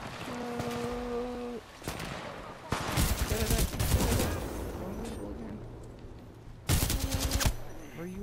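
Bursts of automatic weapon fire in the Titanfall 2 first-person shooter, rapid rattling volleys in several short spurts mixed with other game effects, while players talk over the action.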